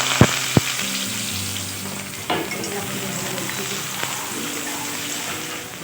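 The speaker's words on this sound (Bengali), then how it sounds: "এখন আমি দিয়ে দিচ্ছি কেটে রাখা আলু।" Cut potatoes dropped into hot mustard oil in a heated wok, with a couple of sharp clicks at the start, then a steady close sizzle and crackle of frying that carries on throughout with occasional stirring bumps.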